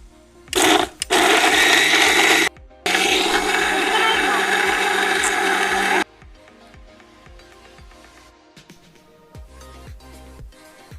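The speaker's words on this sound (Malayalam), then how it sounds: "ഓക്കെ, നമുക്കിത് അരച്ചെടുക്കാം." A kitchen mixer grinder grinds spice masala for alfaham in two loud, whirring bursts separated by a short pause, then stops, leaving quieter clinks and handling sounds.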